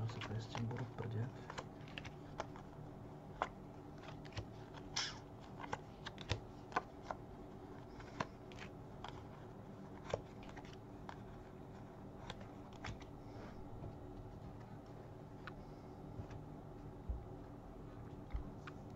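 Tarot cards being spread and shuffled on a surface, with soft repeated papery clicks and slides scattered irregularly through a quiet room, one sharp tap standing out now and then.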